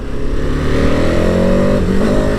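KTM Super Adventure motorcycle from 2021 running steady and loud, its engine note rising with revs and a brief hesitation as the quick shifter takes a gear change, with no voices over it.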